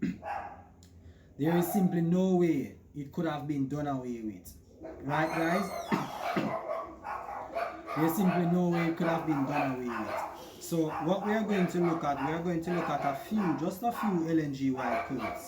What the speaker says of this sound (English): Please pardon the dogs that you hear barking in the background.